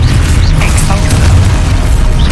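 Exposo explosion spell going off in Hogwarts Legacy, a loud booming blast with crackling bursts over a dense rumbling game soundscape, heavy and continuous for a couple of seconds.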